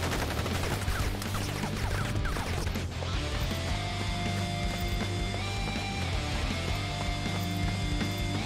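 Dense gunfire in the video game Crisis Core: Final Fantasy VII Reunion, a rapid barrage of shots and impacts layered over game music and effects, loud and continuous with no pause throughout.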